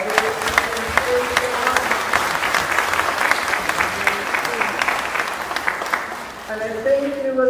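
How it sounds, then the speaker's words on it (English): An Easter Sunday congregation in Mandeville Parish Church gives the Sunday School a warm round of applause, sustained and fairly close, fading slightly before a voice begins speaking at the end. "I want you to give the Sunday School a round of applause"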